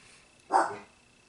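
Dogs heard as a single short, muffled bark at a moderate distance, rising out of a quiet room background.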